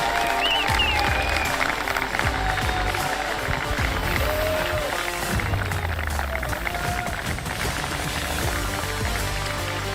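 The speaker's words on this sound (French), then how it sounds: "Je vais vous demander de faire un tonnerre d'applaudissements pour Lou Fourel." Outdoor crowd applauds the race winner at a French off-road championship podium ceremony, a continuous wash of clapping mixed with wind-like noise and a brief whistle, moderately loud throughout.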